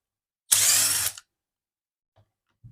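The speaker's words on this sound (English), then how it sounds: "make sure that your drill goes around the right direction, or else you could have a problem" An electric drill drives T10 screws on a GPX-6000 metal detector, giving one loud, close burst of whirring lasting about half a second, then near silence with a couple of faint clicks.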